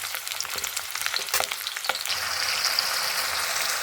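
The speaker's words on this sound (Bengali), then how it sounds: "আলুটাকে লাল লাল করে ভেজে দেবো এখন বারান্দা রান্না করছি এগুলোকে ভেজে নিই" Potatoes fry in a pan on a veranda, with a close hissing sizzle and a few stirring knocks early on, then a steadier, brighter sizzle.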